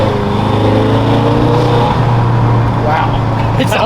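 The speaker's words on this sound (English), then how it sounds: "definitely hear the turbos now" A BMW M5 F10 twin-turbo engine with catless downpipes revs hard close by with a deep, droning exhaust note, turbo whoosh rising over it, and a voice talking briefly.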